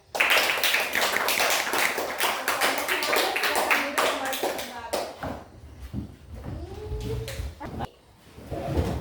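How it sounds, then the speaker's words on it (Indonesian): A school class claps together for a classmate after a presentation, a loud, fast burst of hand claps lasting about five seconds, after which voices and room noise take over. "kita tepuk tangan untuk kawan kita semuanya"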